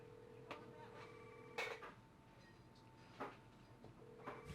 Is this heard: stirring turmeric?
no